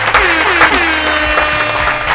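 A single person claps hands at the 2024 Dis-Chem Brain of Brains radio quiz grand finale, a steady patter of claps running the whole time over a faint tonal background.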